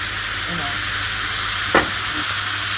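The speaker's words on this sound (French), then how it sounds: "on va décuire ce beurre avec le jus de citron" Browned butter sizzles steadily in a pan as lemon juice is added, a continuous hiss with a brief sharper burst of spitting midway, while scallops cook nearby.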